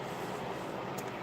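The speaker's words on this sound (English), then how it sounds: "I'm sorry, there's a train passing by." A train passes outside an open front door, a steady low rumble and broad wash of noise that continues without a break and stays fairly faint and distant.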